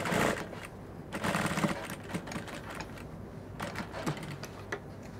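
A sewing machine stitches a sleeve onto a cowl neck dress, giving a busy mechanical whir with a rapid clatter. The sound stays close and fairly even, with a few louder bursts.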